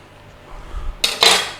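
A knife is drawn through a soft boiled egg and strikes a plate or board, giving two quick close metallic clinks after a soft low thud.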